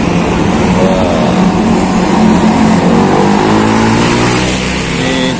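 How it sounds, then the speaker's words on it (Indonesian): Tour buses, including Wali Songo coaches from Sidoarjo, pass along the busy road into Batu in the morning, giving a loud, steady engine rumble and road noise that swells and eases as the vehicles go by, with no talk. "Ini gencarnya bis pariwisata yang mau masuk ke wisata Batu ini."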